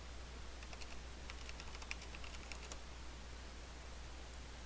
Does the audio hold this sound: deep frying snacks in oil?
no